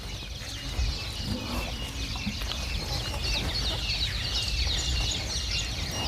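Chickens cluck in the open air on a small dairy farm over a steady outdoor background, several birds calling intermittently at a moderate distance.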